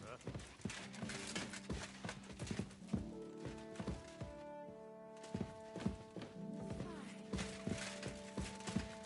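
Rhythmic clip-clop of horse hooves in the video game Kingdom Come: Deliverance 2, steady and fairly close, with a voice speaking and tonal background music underneath.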